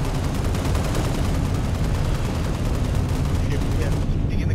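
Dense, continuous gunfire in Halo Reach, a loud unbroken rattle of rapid shots with booming low end that holds steady for several seconds before thinning out at the very end.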